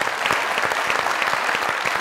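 A studio audience at a comedy talk show breaks into dense, sustained applause, many hands clapping together loudly and evenly throughout with no talk on top.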